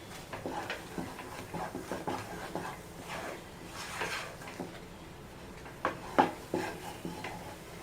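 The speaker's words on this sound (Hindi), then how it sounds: "देखिए इस तरह से चलाते हुए पका लेना है" A spatula stirs halwa in a pan for Bangalore-style halwa puri, giving repeated soft scraping and clinking strokes at close range with no talk.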